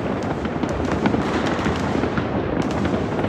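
New Year's Eve fireworks burst outdoors in a dense, continuous crackle of pops and bangs, fairly loud and unbroken, with no voices.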